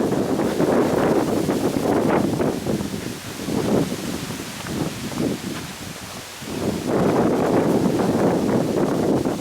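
Strong wind on the Appalachian Trail roars and buffets the microphone almost continuously, easing briefly in the middle before gusting hard again.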